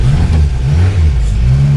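A Renault 4L runs off-road with a loud, close engine drone that rises and falls slightly in pitch over a short stretch.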